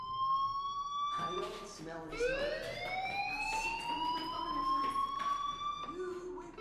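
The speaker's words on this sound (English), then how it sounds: "do you hear that fire alarm?" A fire alarm shrills inside the video game Life is Strange, its rising, wavering electronic tone sounding repeatedly and fairly loud while a person speaks over parts of it.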